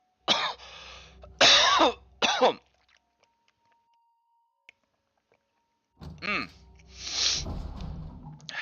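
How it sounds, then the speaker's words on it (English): A person coughs hard several times after eating jerky, a cluster of harsh throat-clearing coughs, then a silent pause before a second burst of rough coughing close to the microphone. "Sorry about the coughing."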